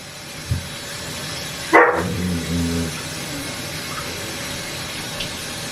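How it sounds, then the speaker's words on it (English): A single sharp dog bark rings out partway through, against a steady low background hum. "The dog barking."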